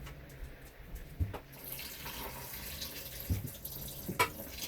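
Running water from a tap rinses black rice and barley, a steady splashing flow broken by a few sharp knocks and clatters of the grains and container.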